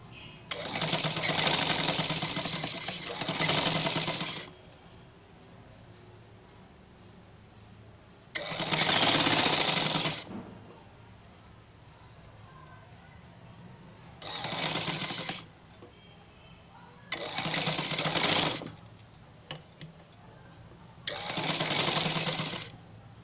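Sewing machine running in several separate bursts of straight stitching, joining velvet layered over net for a pair of frock sleeves; loud, steady runs with quiet pauses between them and no talk.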